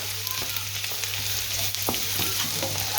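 Shallots frying in a pan give a steady, close crackling sizzle that stays even throughout, with a few light stirring taps and no voices.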